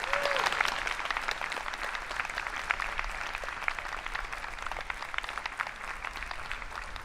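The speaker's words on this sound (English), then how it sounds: "So I'd like a very large round of applause to the families." At a Yale School of Art MFA commencement, an audience gives the families a long round of applause, a continuous, busy patter of many hands clapping at steady loudness.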